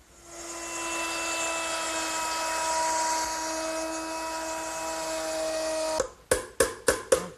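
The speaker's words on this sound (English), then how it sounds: "I'm going to route it out using a 1/4-inch veining bit set up in my router." A router fitted with a 1/4-inch veining bit cuts into a wooden shelf clamped in a bench vise, a loud steady high whine for about six seconds, then several short bursts as it stops and restarts.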